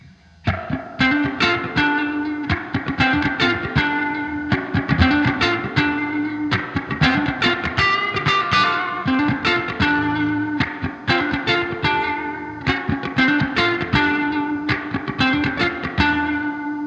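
A Fender '76 Super Reverb head carries an electric guitar at reverb setting 8, rhythmic strummed chords and picked notes blooming into a thick reverberant wash, loud and continuous without any voices.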